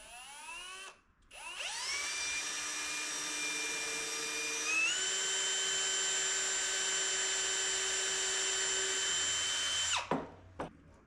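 Power drill boring a small pilot hole in wood while restoring a 1940s church building, a loud, steady whine that climbs in pitch over about nine seconds with a step partway through, then cuts off sharply, with no talk.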